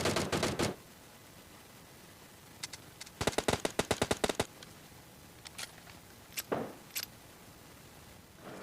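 Video game gunfire: quick bursts of automatic shots, some rapid volleys and scattered single cracks, sharp and fairly close against a quiet background, with no talking.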